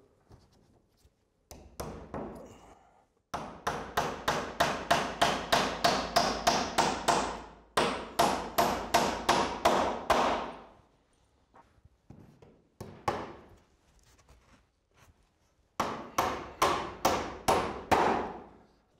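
Roof battens are hammered into place in fast runs of sharp, evenly spaced blows, several bursts separated by short pauses, close and clear.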